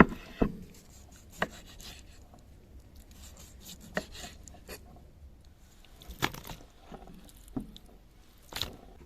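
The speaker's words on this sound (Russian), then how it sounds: "И режем на порционные кусочки, как на шашлык." A knife chops beef heart into shashlik-sized pieces on a board, giving sharp, irregular cuts spaced a second or two apart over quiet background rustle.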